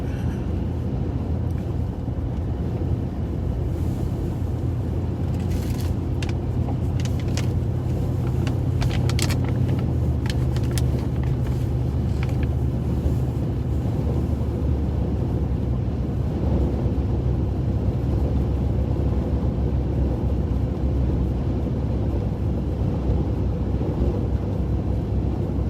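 Car on snow tires driving snowy Iowa roads during a blizzard, a constant loud low road and engine rumble from inside the cabin with some wind noise, steady throughout, no talking.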